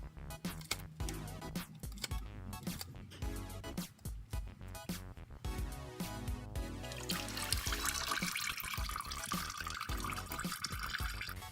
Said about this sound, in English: Loosen the oil filter a bit and wait for the excess oil to drain out.